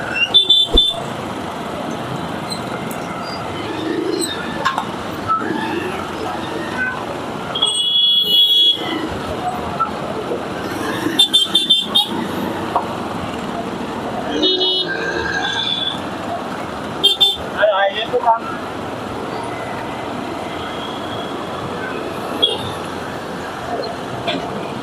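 Car horns honk repeatedly in a long traffic jam on a dusty road between Ahmedabad and Ganpatipura, short and longer toots scattered over a steady rumble of engines and traffic, with a voice talking at times.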